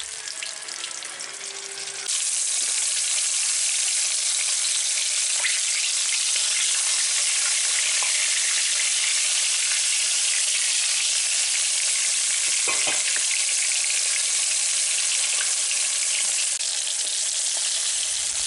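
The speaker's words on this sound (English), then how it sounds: "if it starts to sizzle, you know it's up to the right temperature" Spotted bass sizzles in hot oil with a steady, loud crackling hiss that goes on throughout, and a few faint clinks come through underneath.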